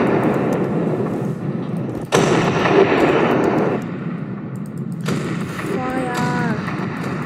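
Ocean liner guns firing in the Ship Crash Physics video game, sudden loud booming blasts with rumbling tails and mechanical clanks, a player talking over them.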